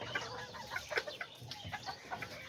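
Chickens cluck nearby in a quick, uneven series of soft calls, fairly faint over a quiet background.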